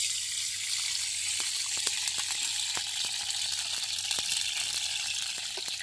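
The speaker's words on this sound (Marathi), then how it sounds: "कढई ठेवून घेते," Oil poured into a hot kadhai for a fish curry sizzles with a steady bright hiss, dotted with small crackles and pops, close and unbroken.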